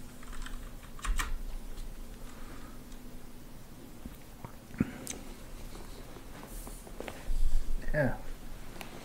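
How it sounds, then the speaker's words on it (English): Computer keys clatter in scattered, soft taps during a lunchtime virtual reality stream of Elite: Dangerous, with faint background noise and occasional louder clicks underneath the room sound. "There's the keyboard."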